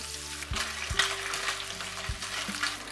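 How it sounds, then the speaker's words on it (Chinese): Onion, garlic slices and ham sausage stir-frying in hot oil, a steady sizzle with several distinct clanks and scrapes of the spatula against the wok, close up and without talk. "锅中烧油至5成热，加入洋葱、蒜片炒香，炒香后将火腿肠炒至有点金黄"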